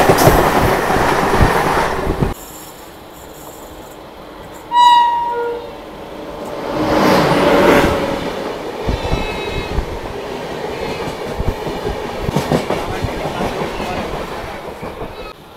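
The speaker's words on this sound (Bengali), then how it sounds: "ট্রেন ছেড়ে দিল বর্ধমান জাংশন রেলওয়ে স্টেশনে 6 নম্বর প্ল্যাটফর্ম থেকে" Jhajha MEMU passenger train running after leaving Bardhaman Junction, with loud rumbling and rhythmic clatter of wheels on rails, brief squeals and tones, and some voices in the carriage.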